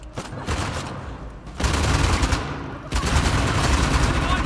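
Gunfire in the Uncharted: The Lost Legacy video game comes in sustained rapid bursts, dense and loud, with heavier volleys starting about midway and again near the end, mixed with game sounds.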